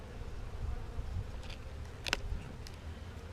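Honeybees buzzing in a beehive during a hive beetle check, a low, constant hum with a few closer buzzes passing by, soft and steady throughout, no voices.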